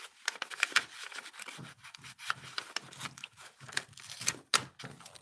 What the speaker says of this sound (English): anywhere the tape's sticking, we're just gonna pull that up